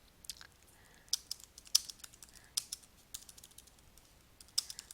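Soft, quiet keystrokes tapped on a computer keyboard while typing a short note, arriving in small irregular bursts of clicks with pauses between, no voices present.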